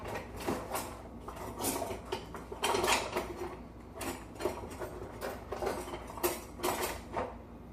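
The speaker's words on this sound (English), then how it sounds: "this knife goes in that drawer with my other silverware" Silverware and kitchen utensils clink and clatter in irregular bursts as they are handled and sorted during a kitchen declutter, close and fairly loud with no talk.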